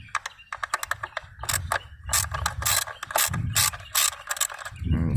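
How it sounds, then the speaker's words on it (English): A ratchet wrench clicks rapidly on a 1995 Cadillac Sedan DeVille engine during valve cover gasket and spark plug work, loud close bursts of ratcheting with short gaps between them. "see me turn some wrenches"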